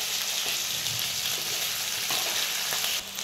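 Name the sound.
sautéing brinjal curry in a pan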